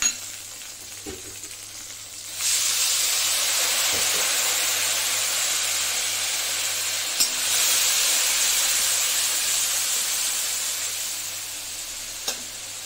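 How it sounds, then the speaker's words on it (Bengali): Ground spices, green chilli and a splash of water hit a hot pan of fried onions, jumping into a loud, sustained hiss after a quieter start, with a few clanks of stirring. "আর এখন এগুলি দিয়ে কাঁচা লঙ্কা শুধু সেই গুঁড়ো মশলা দিয়ে একটু জল দিয়ে দেবো।"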